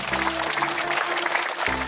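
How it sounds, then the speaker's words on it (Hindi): Steady crowd applause at a silver jubilee celebration in Kalapahar, North and Middle Andaman, a dense wash of many hands clapping at moderate loudness, with a low hum running beneath it. "सब जोरदार ताली बजाएंगे"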